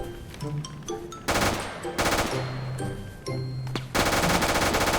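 Bursts of machine gun fire in the Roblox tank game Multicrew Tank Combat 4, rapid repeated shots in several loud volleys with short gaps between them.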